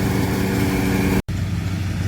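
A John Deere tractor engine runs in second gear at a steady low drone, cutting out for a brief instant before resuming its even hum.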